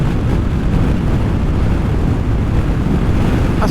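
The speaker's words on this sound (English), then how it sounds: "It's crazy. That's how windy it is." Strong ocean wind around 60 mph gusts along an Icelandic coastline with whitecapping sea, roaring loud and continuous as buffeting rumble against the microphone, with no pauses.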